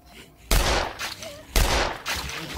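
Two sharp gunshot bursts sound in the video game SixthSense, each a loud sudden crack with a brief rumbling tail, about a second apart.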